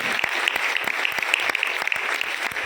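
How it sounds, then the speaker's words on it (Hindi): Audience applause at an award ceremony, a steady dense clapping from a crowd filling the whole stretch, loud and close with sharp individual claps standing out. "उनके लिए इतनी जोरदार तालियां बजाओ"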